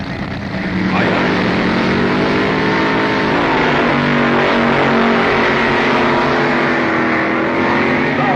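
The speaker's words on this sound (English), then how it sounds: "A pair of gas dragsters driven by Dominic Santucci and Phil Hobbs stage for the Top Gas Eliminator Championship" Vintage NHRA gas dragsters staging and racing for the Top Gas Eliminator title, a loud continuous engine roar with rising, sweeping pitch as the cars launch and accelerate, a crowd and announcer faintly beneath.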